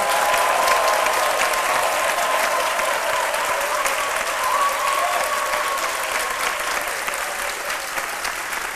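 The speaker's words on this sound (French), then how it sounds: "Et on le fait avec des applaudissements bien vite." Sustained, full applause from a studio audience on the RTI 1 midday television program, honoring athletes who represented the national colours; a dense, even roar of clapping continues without a break.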